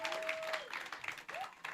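Applause from the audience at a South Africa fashion awards ceremony comes through faint and brief under a voice speaking over it.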